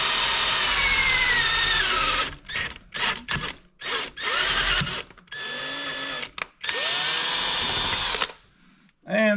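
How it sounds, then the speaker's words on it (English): A power drill whines steadily, then runs in short stop-start bursts with brief pauses, close by, drilling for a headlight and tail light install on a cart, followed by a quick spoken remark at the end. "up and also drilled"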